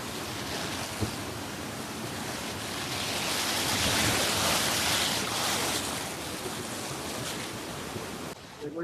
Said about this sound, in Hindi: देखो यहाँ पे पानी की इतनी तेज आवाज आ रही है क्योंकि हम बिल्कुल जस्ट पानी के पास में ही हैं।